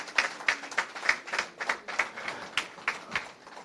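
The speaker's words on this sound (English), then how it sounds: "A round of applause for him." Scattered applause from a modest audience at an International Women's Day gathering, individual hand claps ringing out at an uneven rhythm, fairly distant and moderately quiet, with no voices over it.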